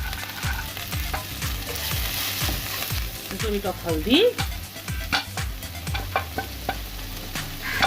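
Spinach dosa batter being stirred with salt and spices, quick rhythmic scraping strokes over a soft sizzle, close and moderately loud, with a voice speaking briefly over it.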